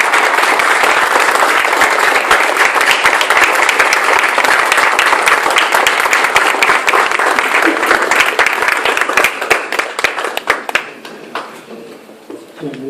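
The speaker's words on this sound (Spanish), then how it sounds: "Les pido a todos ustedes que se pongan de pie y les den un caluroso abrazo" A large audience at a lecture-style gathering breaks into loud, sustained applause, a dense wash of clapping that holds steady and then thins into scattered claps before fading.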